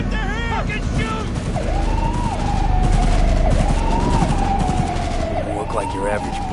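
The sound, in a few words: gunfire in the Cyberpunk 2077 video game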